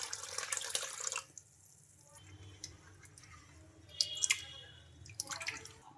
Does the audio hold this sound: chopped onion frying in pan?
no